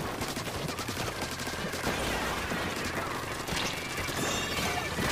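Rapid weapon fire in a Splatoon 3 match: dense, continuous bursts of shooting and splattering hits, loud and close, with game effects layered throughout.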